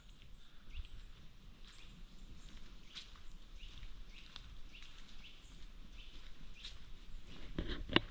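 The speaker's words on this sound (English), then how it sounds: "the sound of the birds" Faint birdsong with scattered chirps and calls in Mametz Wood, a quiet outdoor background, with light rustling and a few soft footsteps nearby.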